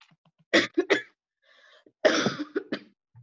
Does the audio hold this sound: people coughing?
yes